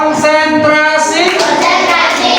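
A classroom of students plays a rhythmic clapping game, sharp hand claps in counted bursts mixed with voices chanting in a sing-song tone, loud and close.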